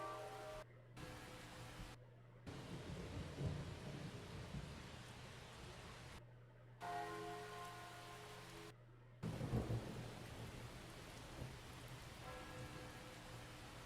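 Steady rain patters down while low thunder rumbles in the distance, with a faint constant hum underneath and brief cuts of silence.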